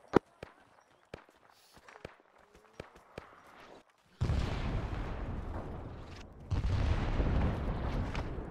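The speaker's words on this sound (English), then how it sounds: "they are directly on the crest of the hill, I think, firing mortars down" Mortar rounds fired by enemies on a hillside crest in Arma 3, a Vietnam-era mod, sounding as scattered sharp distant thumps followed by two long, loud roaring blasts that swell and linger.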